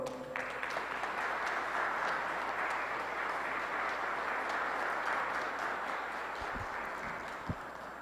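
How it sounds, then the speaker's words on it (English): Warm, steady applause from a large audience at a Chicago gathering, dense continuous clapping sustained for about eight seconds before thinning slightly near the end. "Family and friends, please help to give a big warm round of applause to the student in the ministry,"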